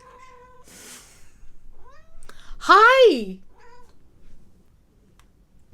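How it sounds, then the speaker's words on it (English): A cat meows at a window, with one loud drawn-out meow after a couple of shorter faint calls, close by, and a person speaks a brief greeting. "There's a cat in the window."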